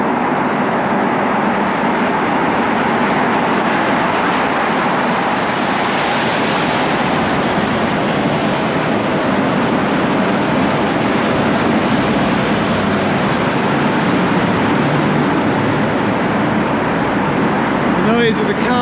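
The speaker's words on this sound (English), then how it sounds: "The noise of the cars and buses really amplified in here." Cars and buses roar through a long road tunnel on the way into Bergen, Norway, their noise amplified and echoing into a dense, continuous wash that stays loud and close for the whole stretch.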